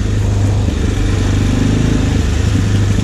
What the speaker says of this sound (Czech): Tady se ten zvuk té motorky úplně krásně rozlejá.